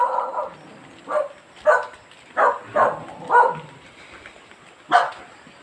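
A dog on a small chicken farm barks loudly and nearby in a run of about seven sharp barks and yips, spaced roughly half a second apart, with no one talking.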